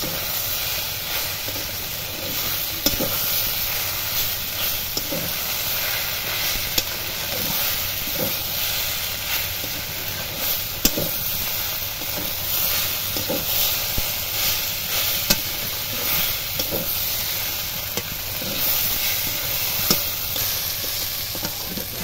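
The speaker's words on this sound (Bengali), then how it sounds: "এবার 1 চামচ সর্ষে বাটা দেব, দিয়ে একটুখানি নেড়ে নামিয়ে নেব" Kochur loti (taro stolons) with mustard paste sizzling steadily in a pan, a dense continuous hiss with soft periodic stirring scrapes every second or two, close and loud, no talking.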